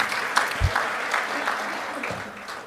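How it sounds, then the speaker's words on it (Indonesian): Audience applause at a formal Indonesian event honouring the Minister of Women's Empowerment and Child Protection, moderate steady clapping that continues throughout at a fairly even level. "tepuk tangan dulu buat beliau."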